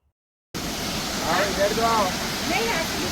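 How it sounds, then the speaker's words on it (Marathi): Water pours from Barvi Dam near Badlapur in a steady, broad roar that begins abruptly after a moment of silence, with faint voices audible beneath the rushing sound. "सुंदर असं पाणी आपल्याला इथं पडताना दिसतं बघा"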